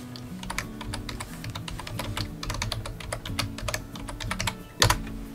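Close, fast typing on a computer keyboard, a steady patter of key clicks with one louder strike near the end. Nobody speaks, and a low tonal hum runs beneath.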